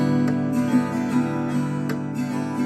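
Acoustic guitar strumming a down-down-tap-up-down-up pattern at a faster tempo, with the middle-finger tap adding percussive hits. Close, steady and rhythmic, with no talk over it.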